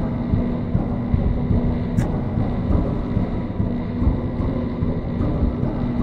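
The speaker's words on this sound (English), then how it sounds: "I can hear the heartbeat." A low, muffled heartbeat throbbing steadily beneath a droning hum in a scary video game, continuous dull pulses with no talking.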